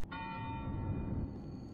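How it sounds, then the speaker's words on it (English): Church bells ringing inside the horror video game Cry of Fear, a sustained metallic tone with bright ringing overtones lingering over a low rumbling ambient bed, steady and fairly distant, with no one talking. "I hear bells, but I don't see a church."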